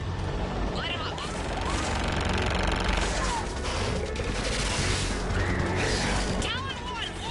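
Aircraft weapons firing on ground targets in the video game Mass Effect 3, dense sustained bursts of gunfire mixed with engine roar and mechanical noise, with voices talking over the din.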